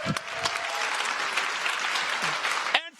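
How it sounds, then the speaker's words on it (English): An audience at a startup pitch event applauds steadily for a few seconds, dense clapping that ends abruptly as a voice begins. "One more round of applause for all of the fantastic presentations."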